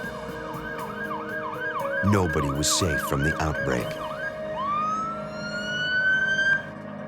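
A wailing ambulance siren sweeps up and down repeatedly, loud and fairly close, mixed with other siren tones and a voice speaking over it during an outbreak.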